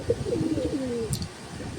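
Breeding-stock pigeons cooing nearby, a soft low warbling coo from a kept flock, with a brief higher chirp in the middle.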